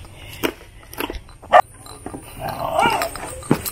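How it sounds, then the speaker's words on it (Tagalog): A dog at a rural farmhouse in the fields gives a few short, close grunting growls and snorts among rustling and scattered background noise. "May aso din dito. Bodyguard nila yung aso."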